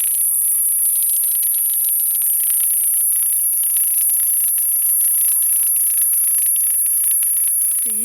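Dense, continuous high-pitched drone of cicadas in a Madagascar forest at Anjozorobe, loud and unbroken throughout, with faint rhythmic pulsing in the buzz and no talk.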